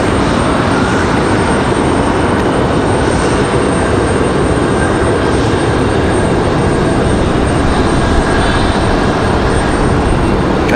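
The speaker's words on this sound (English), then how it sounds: "Sounds like we got another Breeze A220 on the move" Breeze Airways A220 airliner moving on the ground at Raleigh-Durham International Airport, a steady, continuous engine roar and rumble sustained throughout, fairly loud and even with no talking.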